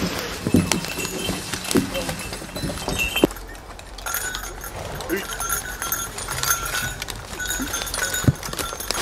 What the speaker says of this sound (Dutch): We zijn met meer dan 20 trekpaarden.